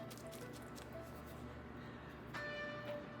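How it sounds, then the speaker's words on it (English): A phone rings faintly indoors as a thin, steady electronic tone that starts partway through, set against a low hum of background noise. "That's John's phone ringing."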